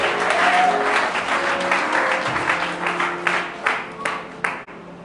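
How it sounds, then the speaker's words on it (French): Applause from a church congregation at a French-language service, a dense burst of many hands clapping at once that stays loud for a few seconds and then thins and fades out. "Acclame Jésus."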